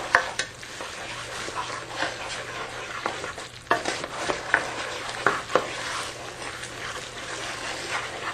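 A spoon stirs hot sugar with almonds in a pot for almond toffee, a steady bubbling sizzle broken by sharp scrapes and taps against the pot, close and fairly loud with no talking.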